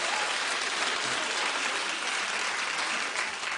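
Studio audience at a daytime talk show clapping loudly and steadily throughout, a dense unbroken wash of applause with no pauses.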